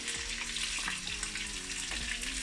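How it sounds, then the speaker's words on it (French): Chopped onions hit a hot pan for rougail saucisse and sizzle steadily, with a few soft stirring scrapes and knocks breaking through the continuous frying hiss. "je vais rajouter les oignons que j'avais coupés préalablement"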